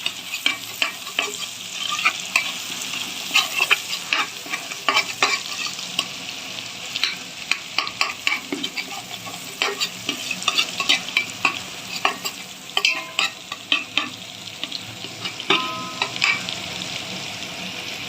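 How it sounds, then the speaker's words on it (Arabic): Kofta being turned in ghee with garlic, a loud close sizzle punctuated by frequent scraping and clattering stirs in a lively, irregular rhythm, with no talking. "هنا بقى اهو بنقلب معاكم الكفتة، سمنة وتوم"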